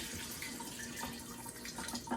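Water pours into a steamer basket set inside a countertop cooker, a steady splashing trickle that runs for a couple of seconds with small bubbling bursts near the end.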